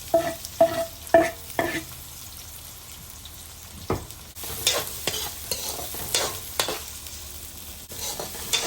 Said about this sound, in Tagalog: Lulutuin mo na ang bawang, sibuyas.